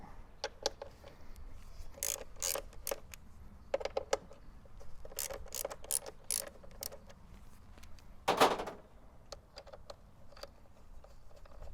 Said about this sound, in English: Remove the factory Torx bolts using the same T45 Torx socket and the ratchet